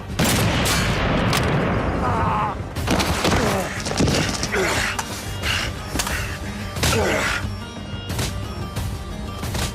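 Weapons practice with gunfire: loud, repeated gunshots and short bursts crack out close by across the whole stretch, with people's voices mixed in among the shots.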